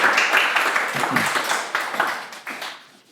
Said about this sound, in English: So, please, small round of applause.